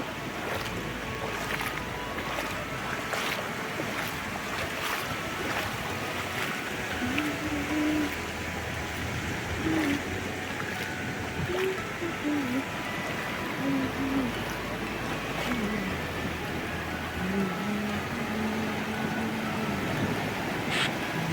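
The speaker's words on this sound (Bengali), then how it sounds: "কি সুন্দর ঢেউ" Ocean waves wash onto the beach at Cox's Bazar in a steady, broad surf roar, with strong wind buffeting the microphone and faint voices now and then.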